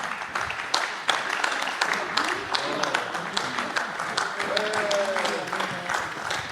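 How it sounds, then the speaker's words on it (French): An audience at a round-table conference applauds with moderate, scattered clapping, while a few voices and a whistle-like tone sound faintly through it. "dépêchez-vous, sinon les applaudissements seront terminés avant que vous soyez arrivés"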